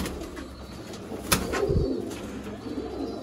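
Pure Sialkoti breeder pigeons, a pair, give soft low cooing with a few faint flutters and one sharp tap, close by over a quiet background.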